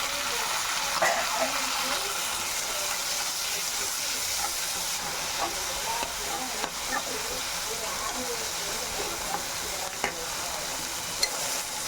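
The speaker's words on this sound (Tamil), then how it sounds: "வெங்காயம் ஏதோ கண்ணாடி பதம் வதக்கட்டும்." Onions sautéing in a pan for a tapioca poriyal, a steady soft sizzle with light stirring scrapes, fairly close and even throughout, no talking.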